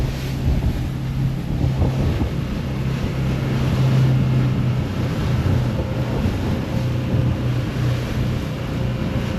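The engines of an old 70ft yacht run offshore at about 1800 RPM, a loud, steady low rumble with a droning hum, mixed with constant wind buffeting and water rush and no talking.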